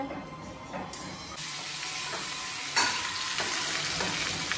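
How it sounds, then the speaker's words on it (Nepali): Loud, steady sizzling of chilli, sesame seeds and tomato frying in a pan, with occasional stirring scrapes and bursts of hiss. "अब टमाटर भुट्नु, खुर्सानी र यसरी तिल भुट्दैछ।"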